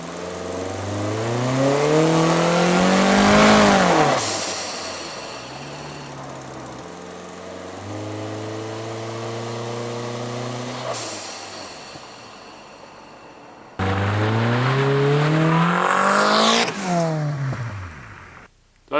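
Turbocharged Honda Del Sol with a screamer exhaust pipe exiting through the bumper, accelerating hard with rising engine pitch and revs, easing off, then revving up again through gear changes at close range.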